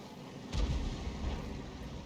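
A Lorraine 155 mle. 51 self-propelled artillery gun fires in a tank video game, one deep, heavy boom rolling out over a steady low rumble, then fading into continuing engine noise.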